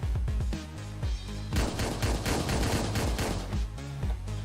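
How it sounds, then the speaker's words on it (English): Rapid handgun gunfire in Hotline Miami 2, repeated sharp punchy shots in quick bursts over a loud thumping game soundtrack. "It's also a handgun, which I'm using here."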